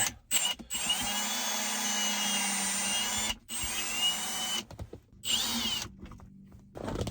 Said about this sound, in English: I actually might want to drill a different hole